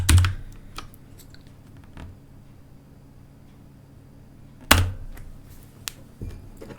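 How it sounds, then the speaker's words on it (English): Keystrokes clatter on a computer keyboard during a coding session, a steady patter of light taps punctuated by a couple of sharper, louder key hits, with no voices present. "I was just typing out"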